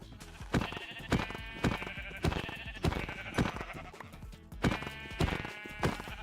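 Minecraft sheep bleat in a rhythmic series of sharp, repeated calls about every half second, moderately close and alone without talk.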